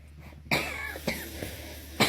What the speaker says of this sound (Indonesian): mohon maaf ya saya batuk